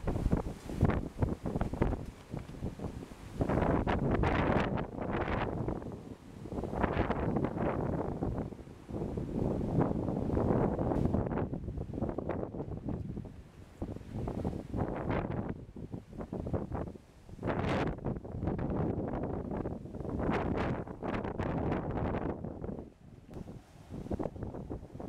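Strong gusts from the tail of tropical storm Isaias batter a campsite along the Saint-Laurent, a loud roaring wind that surges and drops in irregular waves and buffets the microphone, with no voices.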